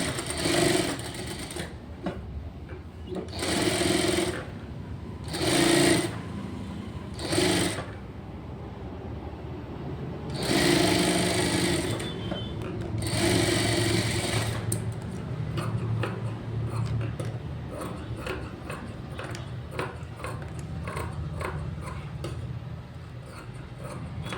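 A sewing machine stitches around folded blouse fabric in several loud, close bursts of rapid whirring, broken by pauses, followed by a softer stretch of ticking and handling.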